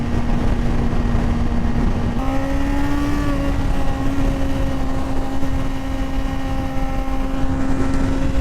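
A 2025 Suzuki GSX-R1000R sport motorcycle, rated at about 200 horsepower, carries a steady, loud engine drone while being ridden, with the pitch rising slightly partway through and then holding even under constant wind roar.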